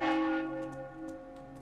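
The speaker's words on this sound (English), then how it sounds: "Oh, is this the bell? I'm at the bell." A single loud church-style bell strike in the Roblox game Slender Man's Revenge rings out and decays slowly with a steady humming tail, while faint game sounds tick in the background.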